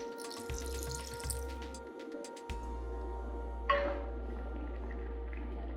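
Water is poured into a pan of spiced beef curry, a splashing gush after some clinks of utensils, followed by steady low sizzling and hum from the stove in a quiet kitchen.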